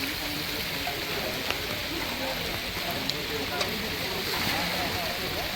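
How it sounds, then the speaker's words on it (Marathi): Steady, dense rain hisses continuously on surfaces at a tidal creek during traditional net fishing, a constant wash of noise with a few faint drips standing out. "पाऊस पण भरपूर लागलाय मित्रांनो. हे बघा भर पावसात वल्गन आणि पाग मासेमारी बघू शकता."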